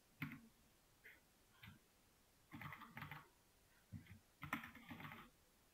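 Computer keyboard typing in short irregular bursts of clicks and keystrokes, fairly quiet and close, with pauses between flurries and no talking.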